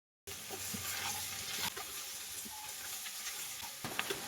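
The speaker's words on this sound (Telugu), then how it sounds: "కట్ చేసి పెట్టుకున్న బెండకాయలు కూడా ఇందులో వేసి కలుపుకోవాలి" Cut okra stirred into hot oil with fried spices and turmeric sizzles and hisses steadily, with scraping stir strokes close up throughout.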